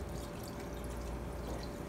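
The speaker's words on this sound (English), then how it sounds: "take that 12 ounces of beer and just pour it over the corned beef" Beer, twelve ounces of it, poured over corned beef inside a Ninja Foodi cooker, giving a steady liquid wash and fizz that runs without a break for two seconds.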